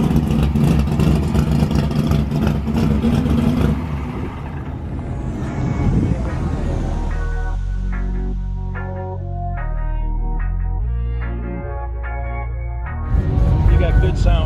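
Ford Mustang engine at a Mustang Week 2022 car show, revving with a rough, low rumble for the first few seconds, then settling into a steady lower drone under crowd noise and music before picking up again near the end.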